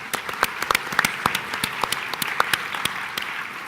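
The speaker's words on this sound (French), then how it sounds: "On peut applaudir." Scattered audience applause at a tourism gathering, a modest crowd clapping unevenly with individual sharp claps standing out, steady and fairly close.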